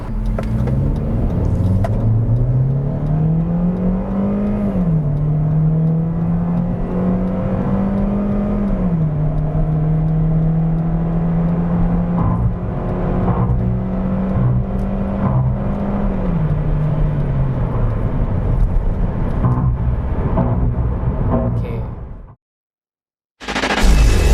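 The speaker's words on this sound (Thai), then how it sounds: "เราจะเร่งให้ถึงประมาณสัก 120" A KIA Cerato Koup accelerates hard toward 120 km/h, its engine note climbing steadily in pitch through a long, loud, continuous rev with close, heavy road rumble beneath, then cutting out abruptly near the end.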